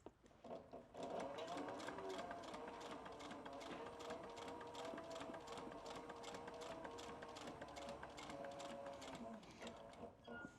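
A sewing machine stitches a leather duffel bag in a fast, steady run of mechanical clatter that starts about one second in and continues to the end, close and unbroken.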